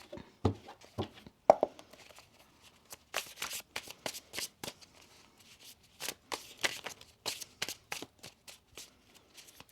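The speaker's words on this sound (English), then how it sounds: "One more shuffle." Tarot cards being shuffled in quick repeated bursts of crisp riffling and flapping, close up, with brief pauses between runs.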